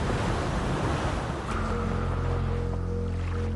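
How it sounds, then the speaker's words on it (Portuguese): Powerful ocean surf at Mavericks in Half Moon Bay, California: a continuous, loud roar of crashing waves with wind rumble, steady throughout and no voices. "Uma das ondas mais poderosas do planeta."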